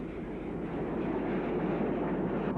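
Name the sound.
steam locomotive train running, County Class No. 1000 County of Middlesex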